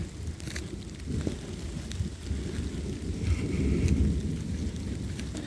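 Heavy rain pours at an abandoned cemetery, a dense rumbling wash with low thunder-like rolls and wind buffeting the microphone, building slightly louder toward the end.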